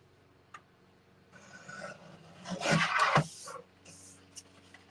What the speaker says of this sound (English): This one I'm going to have to trim just a hair.